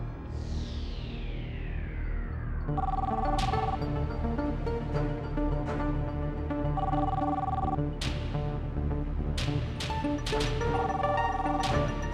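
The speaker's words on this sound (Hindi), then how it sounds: "कब से फोन बज रहा है, उठा क्यों नहीं रहे?" An electronic telephone ringer trills in a repeating pattern of bright bursts over a loud, busy dramatic music bed, with sharp hits and crashes punctuating the mix.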